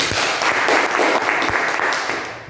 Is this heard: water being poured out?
no